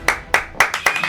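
Five sharp hand claps land at a brisk, even rhythm, close and loud, each with a short decay, more like a single clapper than a full audience.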